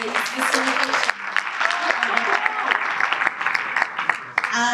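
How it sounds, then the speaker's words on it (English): Audience applause at a regional investment conference, a broad steady clatter of many hands that stays loud for several seconds, with a voice over the top for much of it and the clapping briefly dipping midway. "Give a round of applause to Mr. Paul Hoffman for his facilitation."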